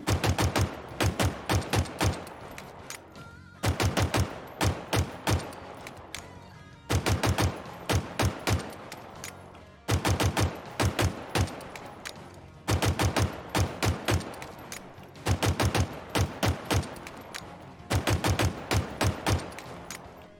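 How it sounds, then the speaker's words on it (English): Halo Infinite gun firing in bursts, a rapid stream of shots followed by slower tapped single shots, repeating across about six loud, close clusters of sharp cracks with brief pauses between magazines, no talking. "rapid fire the first 4 shots, then slow down and tap the trigger the rest of the mag"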